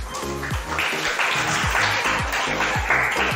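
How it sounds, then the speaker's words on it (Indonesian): Classroom applause for two students, a steady patter of clapping mixed with a repeating low tonal sound throughout. "Tepuk tangan untuk Fania dan Raihan"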